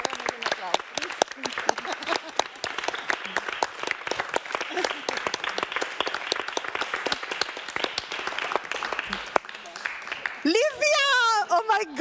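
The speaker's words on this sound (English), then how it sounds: "Make an applause" Loud, dense applause from a symposium audience, steady clapping that runs for several seconds and ends with an excited voice calling out over the tail.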